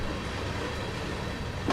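Freight railcars roll on their own down the track into a hump classification yard in the Train Sim World video game, a steady low rumble of wheels on rail that holds evenly throughout, with no talk.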